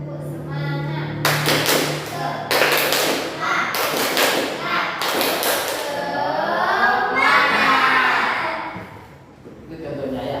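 A classroom group in a counselling session performs the tepuk semangat clapping chant, with several loud bursts of rhythmic group claps between stretches of a voice chanting and talking.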